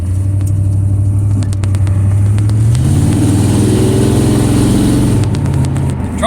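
A truck with a 454 Big Block Chevy V8 and a shift kit accelerates hard, its loud, close engine note climbing through the revs, dropping at a firm gear change, then rising again, with rattles and clicks over the roar.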